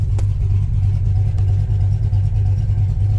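A slammed, cammed 1978 Ford F100 V8 with a small header leak idles nearby with a steady, loud, deep rumble and no talking.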